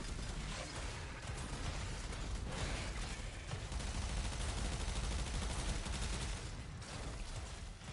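Weapon fire in the game Warframe comes as a dense, continuous barrage of crackling shots and mechanical clatter. A faint, steady rumble sits beneath it throughout, and no one speaks.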